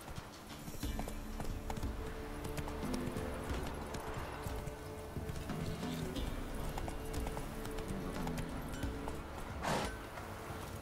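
Roach, Geralt's horse in The Witcher 3, clip-clops steadily at a walking pace, hoof beats close and continuous over ambient game music and background noise, with a brief whoosh near the end.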